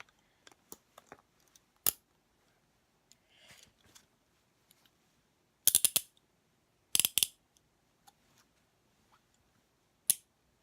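A handcuff ratchets shut on a wrist in several quick clicking bursts separated by pauses, close and crisp against a quiet background.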